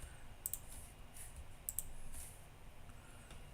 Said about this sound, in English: Just clicking stuff.